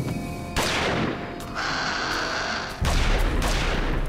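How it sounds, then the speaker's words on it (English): Gunfire in the video game Jurassic Park The Game fills most of the stretch as loud, dense, continuous volleys with sharp onsets. It holds steady for several seconds, then rises into a heavier burst near the end. "You can't shoot at that thing."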